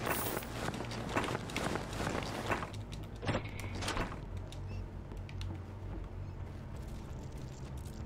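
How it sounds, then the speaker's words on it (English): A big troll stomps around in a video game, its heavy footsteps thudding in a quick uneven rhythm for the first few seconds, then giving way to quieter game ambience. "Stomping around as a big old troll."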